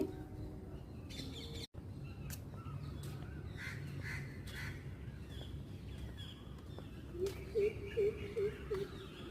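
A greater coucal gives a series of five low, hooting calls in quick succession near the end, from a tree, over faint background ambience and distant bird chirps.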